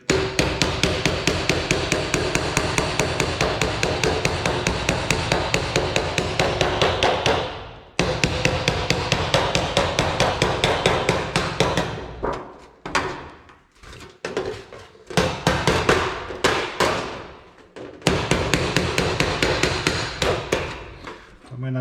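Rapid metallic hammer blows from a metalworking hammer ringing on thin sheet metal, dense and steady for several seconds, then coming in separate bursts with short pauses between them.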